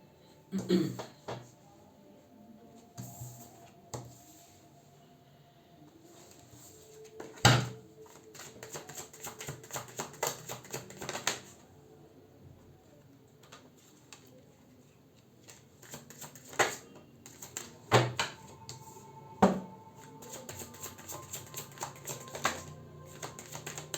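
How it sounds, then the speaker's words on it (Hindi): Tarot cards shuffled and adjusted by hand, giving a long run of quick, crisp riffling and tapping clicks in irregular clusters, with a voice talking softly underneath in places. "कार्ड्स एडजस्ट कर लूँ।"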